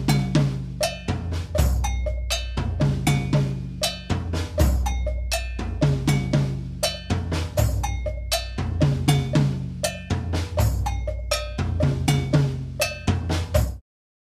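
A cowbell struck by a foot pedal taps out a syncopated left foot clave pattern under a drum groove with kick and cymbals, loud, close and repeating steadily.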